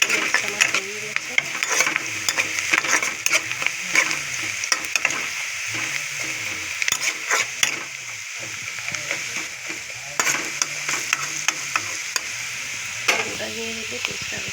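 Garlic fries in a little oil in a pan after onions, a bright constant sizzle close by with frequent clicking stirs and scrapes of a utensil in a loose rhythm.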